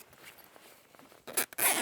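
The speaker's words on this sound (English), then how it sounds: "when you zip it, sometimes it catches on the material" A tent zipper is tugged in a few quick, rasping bursts, catching on the tent fabric, close by and loud, after a stretch of near quiet.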